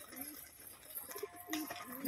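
Soft cooing from a female pigeon, a few low murmuring calls against a steady background hum, with faint voices nearby.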